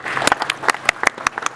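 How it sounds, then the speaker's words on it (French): Scattered hand claps ring out at an inauguration ceremony for the AASANPE headquarters, a sparse irregular patter of separate sharp claps from a small audience, close and brief. "On peut applaudir pour"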